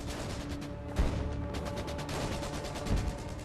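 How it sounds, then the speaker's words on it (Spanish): Gunfire rattles along a road and through forest in a frozen wartime offensive, a dense, continuous crackle of distant shots with a couple of heavier thumps standing out. "la carretera y los bosques cobran vida debido a los disparos"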